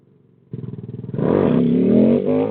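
A motorcycle engine during wheelie riding putters at a low idle, then pulses and climbs into a loud, sustained rev with a rising growl, heard close up.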